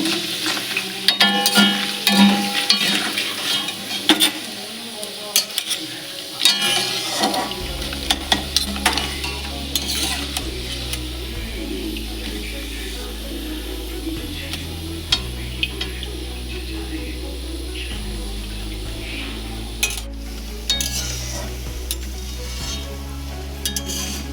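Homemade potato chips frying in oil: a long, steady crackling sizzle with frequent scrapes and clinks of stirring, joined partway through by a low steady hum.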